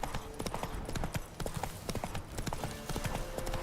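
Horse hooves clip-clop in a steady, brisk rhythm in the Witcher 3 video game, dense and continuous across the whole stretch with a faint low bed of game ambience behind them.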